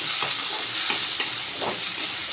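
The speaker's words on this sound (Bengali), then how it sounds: "এবার আমি আলুগুলো ভালো করে ভেজে নেব" Two medium-sized potatoes cut into pieces, salted, sizzle steadily in hot oil while being stirred, with a few scraping clicks of the utensil over the continuous close frying hiss.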